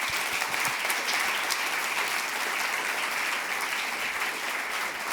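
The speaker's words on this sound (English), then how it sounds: "let's give him one more round of applause" Audience applause for an award recipient at a hunger summit, a steady, dense wash of clapping from a large crowd.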